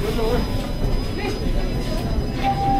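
A subway train arrives at a packed downtown Toronto station on New Year's Eve. Loud rumbling rolls under a thin, sustained wheel squeal, with crowd murmur around it.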